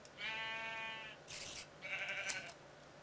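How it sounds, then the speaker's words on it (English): In a video game, a sheep bleats, then shears make a brief crisp cutting swish, followed by another bleat with a short sharp snip, all fairly quiet. "if you shear them, shears have a new sound."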